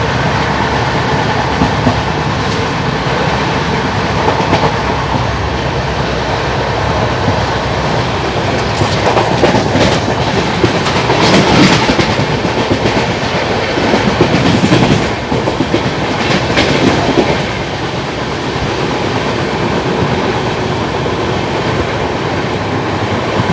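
Express train running past Shegaon station, loud and continuous rolling rumble with a rhythmic clickety-clack of wheels over rail joints, and surging rattles partway through.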